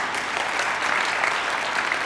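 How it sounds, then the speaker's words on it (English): A crowd at the COP26 climate summit's leaders' session claps in a dense, steady burst of applause, loud and continuous for the whole stretch. "may we continue to give them a round of applause"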